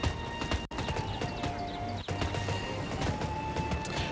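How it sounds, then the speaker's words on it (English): Horse hooves clip-clopping in the online game Tera, a continuous run of soft rhythmic hoof beats over a steady game soundscape with faint tonal background, with no speech. "And look at my horse. Look at my horse. My horse is amazing."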